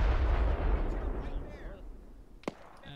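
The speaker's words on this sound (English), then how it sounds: "why these fucking mortars keep passing by?" A deep rumbling boom from mortar fire in the military game ArmA 3 rolls out and fades, followed by a sharp crack a moment later, with faint radio chatter.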